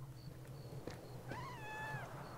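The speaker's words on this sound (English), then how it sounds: "Meow." A cat meows in a video game, one drawn-out, clear, fairly close call over a low background hum, with faint clicks and tones around it.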